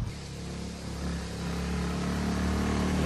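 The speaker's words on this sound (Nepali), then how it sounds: "मेरो दाई 3टा बाइक लाइनअपमा छन् एउटा 220 एउटा 150 अनि स्कुटर" Engines of a lineup of motorcycles, a 220 and a 150, plus a scooter, rumble and idle together in a steady, fairly loud drone for a few seconds, swelling slightly toward the end, with no talk over it.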